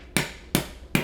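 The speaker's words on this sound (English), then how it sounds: "So that sound is the coconut already cracking" Three evenly spaced, sharp hammer blows strike a fresh coconut up close, each a hard knock with a short shell crack trailing off, in an otherwise quiet setting.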